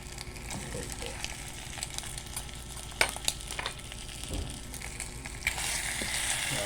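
Luncheon meat slices fry in a pan with a steady, close sizzle, broken by a few sharp scraping clicks of a utensil and rising into a brighter hiss near the end.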